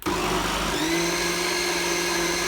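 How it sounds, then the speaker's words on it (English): A blender runs on a slow setting through cauliflower and Stilton soup, its motor whirring steadily and loudly close up from start to finish with a tea towel draped over the lid. "a slow blend"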